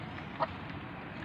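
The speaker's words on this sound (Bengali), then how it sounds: "মুরগিগুলো যে খাবার খাচ্ছে" A farmyard chicken gives a single short cluck at morning feeding time, faint against a steady background hiss.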